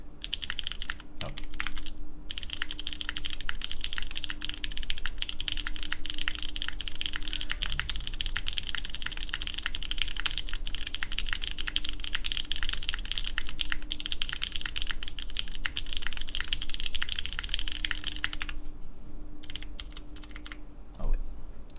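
Steady fast typing on a KBDfans Tofu TKL keyboard built with a PCB gasket mount, a dense run of close clicky keystrokes lasting about eighteen seconds before easing off, with no talking.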